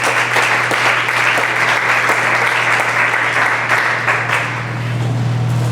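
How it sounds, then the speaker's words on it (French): A conference crowd in Kinshasa claps loudly and continuously, dense overlapping hands over a steady low electrical hum, easing slightly toward the end. "Applaudissez pour lui, applaudissez pour lui."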